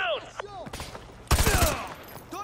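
Gunfire in Modern Warfare 2 Remastered: a few scattered shots, then a loud close burst of rapid fire in the middle, with softer shots trailing off and some speech mixed in.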